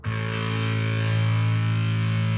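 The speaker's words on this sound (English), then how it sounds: "should you be running distortion through bass?" A sustained, heavily distorted bass guitar note rings out alone, thick and buzzing with steady loudness throughout.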